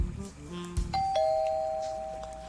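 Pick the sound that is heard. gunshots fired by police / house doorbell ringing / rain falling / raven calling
house doorbell ringing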